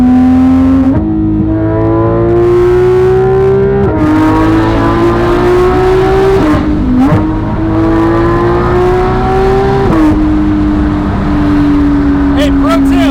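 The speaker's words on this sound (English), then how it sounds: "And then you just open the valves back up," A Porsche 991.2 GT3 RS with an aftermarket exhaust and its exhaust valves open revs hard up through the gears, loud and close, with climbing engine pitch broken by sharp shift drops.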